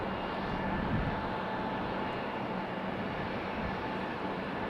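An airliner pushes back at Raleigh-Durham International Airport, its engines producing a steady, loud, broadband roar that holds without a break throughout.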